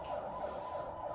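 An ambulance siren passing outside a classroom, heard as a steady wailing tone rising and falling under room noise, moderately loud and slightly distant.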